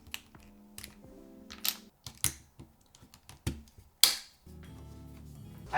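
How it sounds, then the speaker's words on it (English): Keycaps are pulled off a mechanical keyboard, giving a series of sharp plastic clicks and snaps spaced irregularly, with short stretches of a quiet buzzing hum between them. "Let's take off the keycaps."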